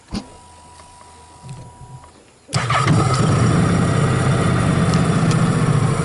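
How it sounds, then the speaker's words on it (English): A Honda NC750X DCT motorcycle with 259,000 kilometres on it fires up after a short crank, dropping straight into a loud, close, steady idle rumble that holds to the end. "if you want to hear it, the engine, this is what it's going to sound like"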